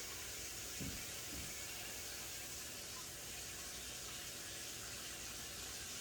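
A pressure cooker on the stove hisses steadily as steam escapes through its spout, a constant broad airy rush with a couple of faint low thumps near the start.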